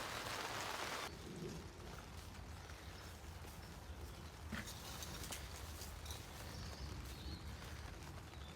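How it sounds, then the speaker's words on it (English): Rain falls steadily on a UK allotment in March, a dense broadband hiss with scattered sharper drop hits and a faint low rumble underneath, no voices. "Enjoy the rain and I'll see you shortly."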